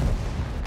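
Tank cannon fire in the World of Tanks video game, a single short, heavy boom with a deep low-end thump that fills the whole moment.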